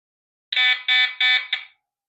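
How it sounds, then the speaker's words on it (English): A security camera's high electronic alarm alert beeps four times in quick succession, three longer tones and a short final one, loud and close in silence. "You can hear the alert."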